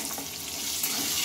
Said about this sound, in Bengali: আবারও একটু নেড়ে চেড়ে এটা ভালোভাবে ভেজে নেব